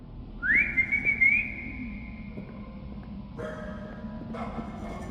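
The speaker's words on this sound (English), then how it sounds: "when navigating the sewer tunnels, whistling for your dog" A player whistles for a dog while navigating sewer tunnels in the horror game Lost in Vivo: one rising, sustained whistle about a second long, heard clearly over a low rumbling ambience, followed by faint distant echoing tones.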